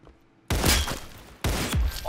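Two loud, close gunshot bursts in Counter Blox, a sharp crack at the start followed by a reverberant tail, the second shot about a second after the first.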